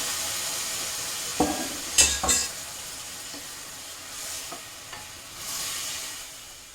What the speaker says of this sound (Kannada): ಈ ರೀತಿ ಒಂದು ಒಳ್ಳೆ ಮಿಕ್ಸ್ ಕೊಡೋಣ.